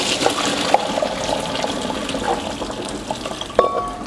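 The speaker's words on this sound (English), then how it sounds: "we're going to drain the pasta and pour it into that sauce" Cooked pasta and its water are drained and poured into a tomato and bacon sauce, giving a steady splashing rush of liquid with occasional clinks and knocks of a pan or colander.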